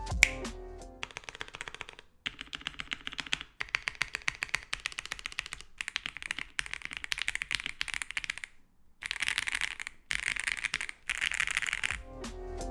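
Close-up typing on a custom QK mechanical keyboard with a PC plate and plate foam: rapid, crisp keystroke clacks in bursts, with short pauses between runs.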